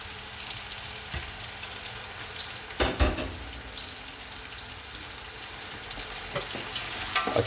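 Three large onions frying in a pan for chicken biryani: a constant moderate sizzle with a couple of louder stirring scrapes and clatters, no talking.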